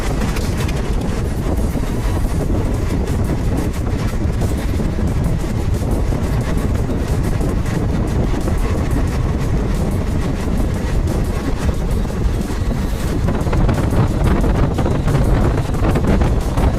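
Passenger train travelling from Lucknow to Sitapur Junction in bitter cold, a loud, steady rumble of wheels and carriage noise with heavy wind buffeting the microphone throughout, no voices.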